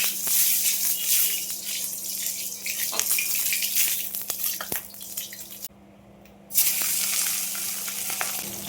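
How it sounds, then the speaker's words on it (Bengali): Fish fried crisp in hot oil in a home kitchen, a steady loud sizzle with crackling pops running throughout, briefly cut off near the end before resuming at full strength. "দেখো মাছগুলো ভেজে নিয়েছি কড়া করে"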